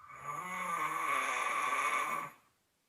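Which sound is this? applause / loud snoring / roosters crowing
loud snoring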